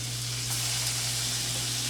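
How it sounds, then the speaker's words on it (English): Potatoes sizzle in a hot skillet, a steady close hiss of frying with a low hum underneath and no talking. "We'll start throwing these potatoes in and get them frying here."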